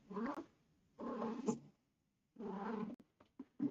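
A kitten meows and cries in three drawn-out bursts, with brief softer chirps near the end, close and fairly quiet, with no talking.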